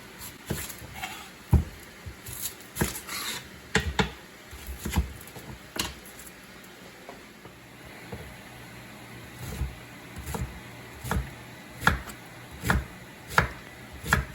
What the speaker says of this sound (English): We're going to start off by cutting up an onion for our ground beef.